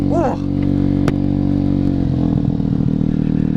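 Engine of a 2014 Vespa Super GTS 150 automatic scooter, a loud, steady drone running close and continuous, with a brief sharp clack about a second in.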